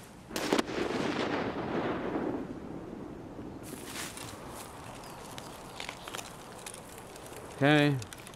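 Grenade blasts in the shooter Escape from Tarkov on the Shoreline map: a sharp close bang at the start followed by a rolling, decaying rumble, then scattered smaller impacts and footsteps, and a brief voice near the end.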